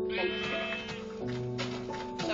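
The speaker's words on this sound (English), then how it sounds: "Hey, sheep." Minecraft sheep bleat in the game, a wavering, harmonic-rich baa repeating in a few overlapping calls across a couple of seconds, fairly close and steady in loudness with no talk over it.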